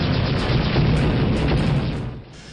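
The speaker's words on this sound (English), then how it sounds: "things do blow up, and they are satisfyingly loud" A loud, booming explosion from the 1990s MS-DOS first-person shooter Dark Forces, a dense roaring blast that holds for about two seconds before trailing off.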